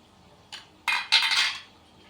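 Metal idli plates are handled while being oiled, giving a few short metallic clinks and clatters close by: one light tap, then two louder rattling bursts, with no talk.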